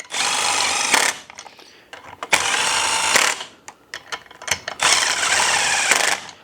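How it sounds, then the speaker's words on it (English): An impact gun on a low setting runs in the head bolts on a Suzuki LTZ400 engine: three loud, sustained rattling bursts close by, separated by short pauses with small clicks and clanks. "Now I'm first going to run these in with the impact gun"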